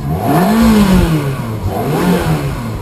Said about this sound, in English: Go ahead and give it some gas.